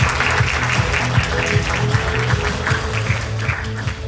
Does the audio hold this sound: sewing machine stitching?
no